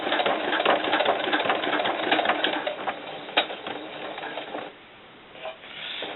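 A sewing machine runs in quick bursts while reinforcing a stitch on a doll camisole, its rapid needle clatter steady and close, then briefly pausing before a short final run.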